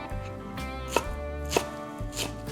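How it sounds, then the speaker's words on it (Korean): A knife chops mung bean sprouts finely on a cutting board, steady close taps with a few louder strikes, a regular rhythm of cuts and no talking. "그리고 숙주나물은 좀 작게 송송 썰어주시고요."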